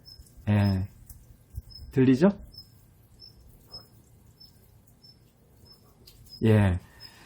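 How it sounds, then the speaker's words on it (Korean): Faint, high bird chirps repeat at a steady pace in the background, while someone speaks a few short phrases over them. "약하게 새소리가 들립니까?"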